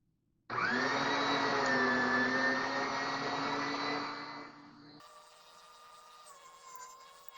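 An electric meat grinder grinds pork with a loud, steady motor whine close by. The whine eases off after a few seconds and then shifts to a higher, thinner drone. No one speaks.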